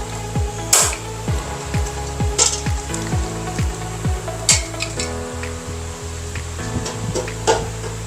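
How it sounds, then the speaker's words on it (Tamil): Whole spices such as cinnamon, cardamom and bark sizzle and crackle steadily in hot ghee in a pan at home for biryani, with occasional louder pops and a few stirring knocks against the pot, no talking. "இது கொஞ்சம் பொரியட்டும்"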